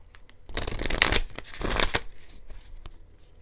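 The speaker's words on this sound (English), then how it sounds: "Okay, one more shuffle." Oracle cards being shuffled in quick riffling bursts, two main runs of papery flutter followed by a few soft taps, close and fairly loud.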